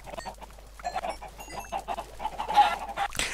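Minecraft chickens cluck softly in a quiet, continuous run of short clucks, with no speech over them.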